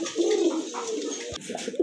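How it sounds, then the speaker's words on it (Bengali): A pair of grizzle pigeons at a pigeon sale coo nearby in soft, rolling low phrases, repeated through the short stretch with little else around. "আরেক জোড়া গ্রিজেল কবুতর দেখতে পাচ্ছেন আপনারা"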